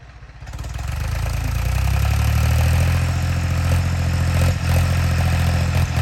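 A tractor engine starts up and settles into a steady, close, throbbing idle with a low rumble and light clatter, running alone without any talk.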